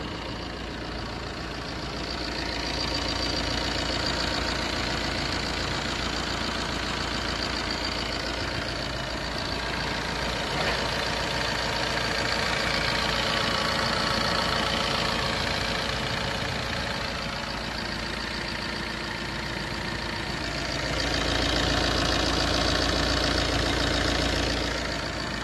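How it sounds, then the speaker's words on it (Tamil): A Fiat 1.3 Multijet diesel engine idles just after starting, with a steady, loud, close rumble and an even knocking clatter that holds for the whole stretch, with no voices. "இப்போ பார்த்தீங்கன்னா இந்த ஃபியட்டோட இன்ஜினை நான் ஸ்டார்ட் பண்ணிட்டேன்"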